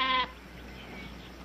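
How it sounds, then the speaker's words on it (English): A single sheep gives one short, fairly close bleat at the very start, then it fades into quiet outdoor ambience. "They are not stock. They're sheep."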